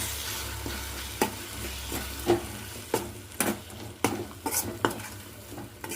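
A spoon stirs homemade chutney with jaggery and roasted peanut powder mixed in, giving a steady scraping swish under a string of sharp clinks and taps against the bowl, close and fairly quiet, with no voices.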